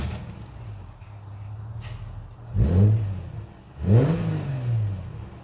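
A Subaru Legacy 3-litre Spec B engine idles, then gives two sharp, close revs in quick succession, each rising and falling back to idle, with no talk.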